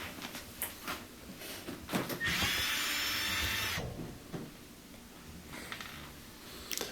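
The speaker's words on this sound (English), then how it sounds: "And then I'll remove that little bracket that holds it. It's two Phillips head screws." A power screwdriver whirs for about a second and a half while backing two Phillips head screws out of a bracket inside a Thermador oven, framed by close clicks and handling knocks.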